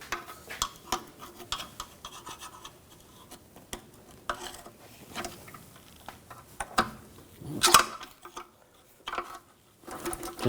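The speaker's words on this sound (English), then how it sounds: "Just using a 18mm ratchet wrench just to get the bolt started" An 18mm ratchet wrench threads a new torque-to-yield bolt into a front lower control arm on a 2004-2009 Audi A4 Quattro, giving sparse, irregular metallic clicks and clunks at close range over quiet background.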